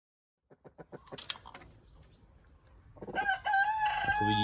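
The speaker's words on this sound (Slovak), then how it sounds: "toto je kohút viandotka strieborná" A silver Wyandotte rooster crows loud and near, preceded by several short clucks and rustling that build up to the full drawn-out call at the end.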